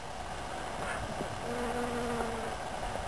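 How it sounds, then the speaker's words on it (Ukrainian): A soft, steady buzz of bees and small flies hangs over a quiet outdoor hush in a rapeseed field, with a few passing drones rising and fading. "стоїть такий собі легкий гул. Тут літають якісь мушки і літає багато бджіл."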